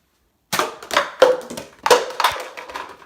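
A Nerf dart fired in an eyes-closed trick shot aimed into a cup, heard as a string of sharp, close clicks and snaps with an irregular rhythm across about two and a half seconds after a short silence.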